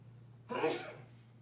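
A single short sneeze at a township board of supervisors meeting, fairly faint, rising suddenly over a low steady hum and fading within half a second.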